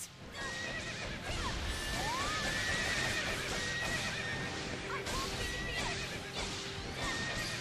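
Horse neighing in the video game Fire Emblem Warriors, a loud whinny rising over busy battle noise with hoofbeats, clashing and rumbling game sounds throughout.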